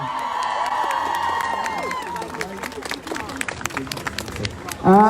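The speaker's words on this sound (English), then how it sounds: "Give her Bisan a big round of applause, everybody." Crowd at a Palestine protest rally cheering and clapping, a dense roar with whistles and shouts that thins out over several seconds before a sudden loud burst at the end.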